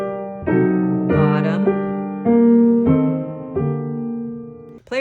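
Slow solo piano phrase from Schumann's Träumerei, Op. 15 No. 7, with the melody alternating between the right hand's top and bottom voices: sustained, close chords with gentle attacks, played alone and ending with a brief sound at the end.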